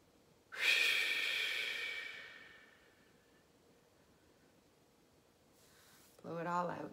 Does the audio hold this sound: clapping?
no